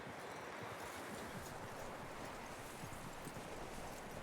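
Horse hooves clip-clopping in the video game Red Dead Redemption 2, a faint steady patter of footfalls under a broad hiss, with no talking.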